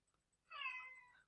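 A single cat meow from the video game Mari0 sounds after a short near-silence, bright and clear, lasting under a second and then trailing off.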